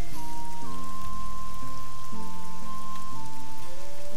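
Steady rain in the video game Nehrim patters on a surface over a droning, tonal musical background, loud and continuous with no talking.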